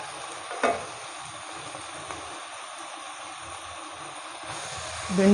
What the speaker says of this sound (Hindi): अब हम इसमें इस कंडीशन में अपनी भिंडी ऐड करेंगे।